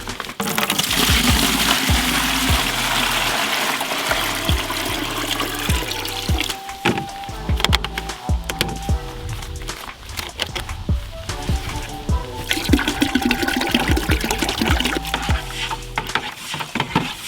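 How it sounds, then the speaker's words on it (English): Water runs and splashes steadily into a bucket, filled to a marked line for a chimney acid wash mixture, with background music thumping underneath throughout. "We're going to fill that up to the 3rd line with water first."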